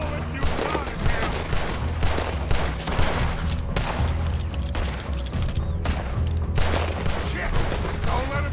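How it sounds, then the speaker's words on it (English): Gunfire in Red Dead Redemption 2, rapid dense volleys of shots layered over a low rumbling game score, loud and continuous throughout, with shouted voices mixed in. "Put every bullet you got in him!"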